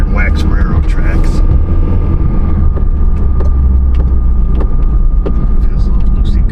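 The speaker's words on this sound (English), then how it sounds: "We'll just go around the corner here and whack some railroad tracks." A Hyundai Tucson with a loose heat shield and worn sway bar links thumps over railroad tracks, giving a few sharp rattling clunks over a loud, steady road and engine rumble from inside the car.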